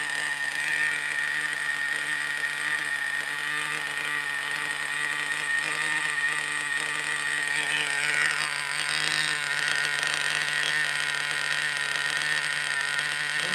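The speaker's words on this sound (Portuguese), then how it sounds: "Aqui está o funcionamento do motor." An SH18 engine runs steadily and loudly for the whole stretch, a constant mechanical drone with no pauses and no voices over it.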